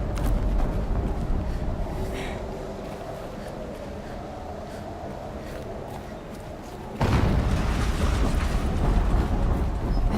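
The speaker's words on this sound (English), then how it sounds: "An explosion." Explosion in the video game Horizon Zero Dawn, arriving as a sudden loud blast partway through and cutting in over a dull, rumbling game soundscape that continues loud afterward.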